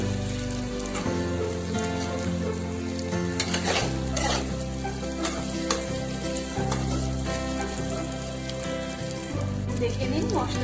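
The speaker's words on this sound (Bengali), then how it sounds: "দিয়ে আমি ভালো করে আস্তে আস্তে বেগুনগুলোর সাথে মশলাগুলো মাখিয়ে নেব।" Eggplant pieces fry in a pan as they are stirred and coated with spices. A dense, steady sizzle runs throughout, with frequent scraping and clattering stirring strokes close by.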